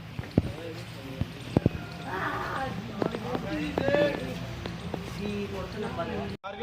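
Horse hooves clip-clop at an NCC cadets' annual training camp in Jammu, with cadets riding; irregular sharp hoof strikes sound close over outdoor ambience, while an instructor talks throughout.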